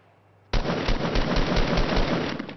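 After a brief quiet moment, a loud burst of rapid automatic gunfire erupts in Fortnite Battle Royale and continues as a dense, rattling barrage.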